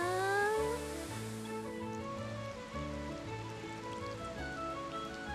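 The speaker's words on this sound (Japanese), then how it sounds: "この雨音もどこか癒しの音楽に聞こえてくるな。" Steady rain falls on a roof over an outdoor hot spring in Japan, a soft even hiss close by with faint tonal background sound and no talking.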